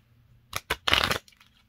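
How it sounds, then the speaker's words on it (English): A deck of cards is riffled and shuffled in a few quick, crisp bursts, close up, with quiet in between. "We are going to shuffle these bad boys."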